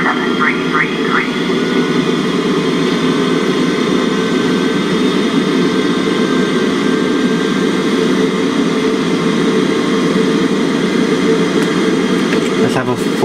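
An airliner's jet engines roar at a steady, loud pitch through the takeoff roll in Microsoft Flight Simulator X, with a constant whine over the rumble and a few faint chirps near the start and end.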